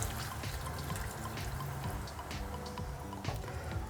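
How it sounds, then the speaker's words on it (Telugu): A little water poured into a pan of mutton curry, giving a soft continuous trickle and dribble over low simmering noise, close and steady with a faint splash near the end. "కొద్దిగా వాటర్ యాడ్ చేసుకుందాము."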